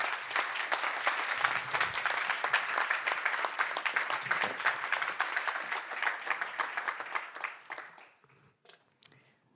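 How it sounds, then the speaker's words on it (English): A conference audience applauds to welcome the first speaker, sustained dense clapping from a crowd in a hall that holds steady for about eight seconds and then thins out to a few scattered claps. "So please welcome Anna with thunderous applause as our first speaker."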